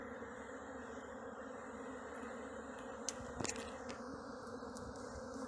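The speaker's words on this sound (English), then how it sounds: "There's a bunch of bees in here." A swarm of honeybees shut in a box hums as a steady, dense low drone, fairly faint and continuous, with a couple of brief knocks partway through.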